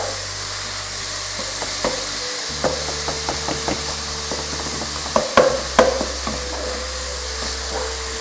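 Garlic and ginger sautéing in a pan, a steady close sizzle broken by a series of sharp knocks and scrapes from stirring, with a low hum running underneath.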